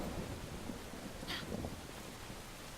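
Rain and thunder in the video game Brothers: A Tale of Two Sons: a low rumble of thunder under a steady hiss of rainfall, soft and continuous, with a brief brighter crackle partway through.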